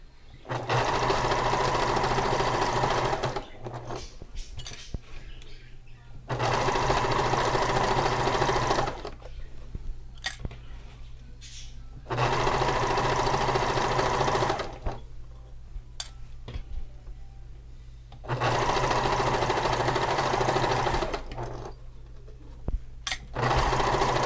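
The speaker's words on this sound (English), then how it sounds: "Alright, now I'm going to keep sewing" A sewing machine stitches a gathered, pleated pillow sham in four steady, loud runs of rapid whirring, separated by short quiet pauses as the fabric is adjusted, with no voices.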